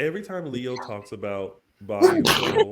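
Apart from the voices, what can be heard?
sneeze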